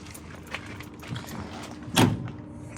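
One solid thunk of a Volvo 240 door shutting near the two-second mark, close and firm, with a few softer clicks and rustles around it in a quiet driveway.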